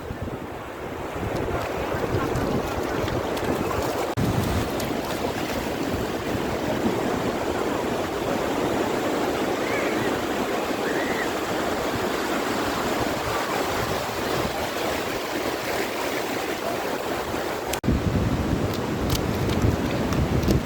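Waves break and wash up a Konkan beach in a continuous loud roar of surf, heavy wind rumbling across the microphone throughout, with no voices.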